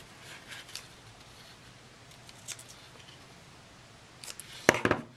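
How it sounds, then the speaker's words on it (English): Ribbon scissors trimming the ribbon ends on a handmade Lindt chocolate egg holder: a few faint, scattered snips, then a louder cluster of crisp close cuts near the end, with no talking. "let's get our ribbon scissors out"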